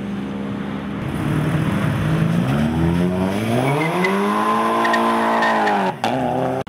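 A two-door Renault Clio with star-pattern wheels drives past at a car meet in Curitiba, Brazil, its engine note rising steadily in pitch as it accelerates, loud and close, then cutting off abruptly near the end.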